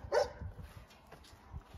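A dog barks once nearby at a moderate level, followed by faint rustling and low thumping noises in the background.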